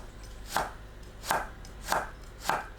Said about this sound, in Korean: 도라지를 얇게 어슷 썰어주세요.